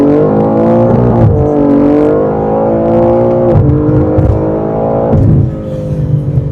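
A 2023 BMW G80 M3 CS accelerating hard in second gear, loud close engine note rising steadily in pitch, with brief dips at gear changes.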